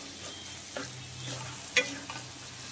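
Potato pieces sautéing in hot oil for a Maharashtrian dal amti, a soft continuous sizzle broken by occasional scraping stirs of a spoon against the pan, with one sharper clink near the middle.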